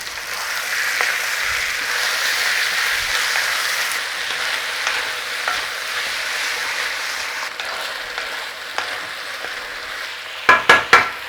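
Meat browning for an Irish stew sizzles steadily in a hot pan, a continuous close frying hiss with a few sharp clatters near the end and no talking.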